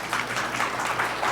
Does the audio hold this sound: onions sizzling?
no